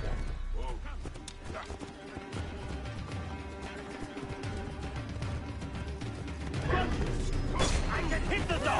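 Dog barking in the Assassin's Creed Origins game, Hidden Ones DLC: short bow-wow barks mixed into busy game audio with music, effects and some speech, fairly close, with louder commotion near the end.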